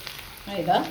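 Garlic and flour frying in butter in a pan, a soft sizzle that swells and brightens over the second half of a brief moment, with no voices.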